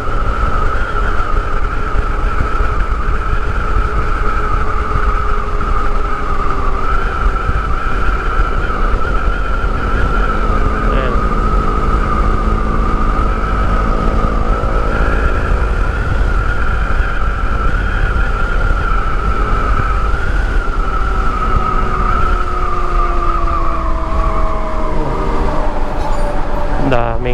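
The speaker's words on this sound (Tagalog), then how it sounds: "talagang makakasabayan mo na yung mga malalaking truck" Heavy Manila traffic on Roxas Boulevard near the Buendia Flyover in Pasay City, dominated by large trucks: a loud, constant engine roar and drone from vehicles close by, with shifting tones from passing engines and no pauses.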